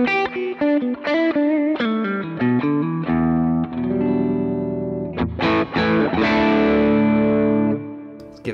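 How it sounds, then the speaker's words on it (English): Electric guitar played through an Axe-FX 3 using the Tone of Kings overdrive, a King of Tone style pedal emulation: crunchy driven chords and single notes, loud and close, strummed in bursts with sustained ringing in between. "let's choose Tone of Kings, which is gonna be like a King of Tone style pedal."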